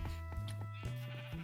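Several short, nasal sheep bleats from a blocky video-game farm, repeating in quick succession with a steady tone, close and clear with no talking.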